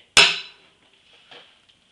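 One sharp hammer blow rings on a steel wedge driven into an Osage orange log, followed by a fainter second tap and a tiny tick in an otherwise quiet space.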